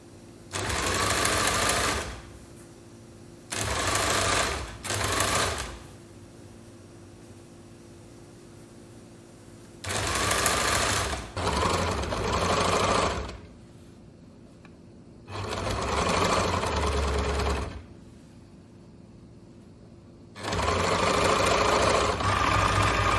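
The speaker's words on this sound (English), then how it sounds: "It's time to sew the panel onto the side of the pants. I'm using a straight stitch." Sewing machine running a straight stitch to attach a side panel to a pair of pants, its loud motor whirring in five separate bursts of a few seconds each, with quiet pauses between them.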